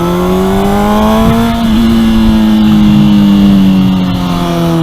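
A non-stock Honda CBR 600RR motorcycle fitted with a Tose exhaust and a power commander revs up close and loud, its engine pitch rising and falling across a few seconds of steady throttle.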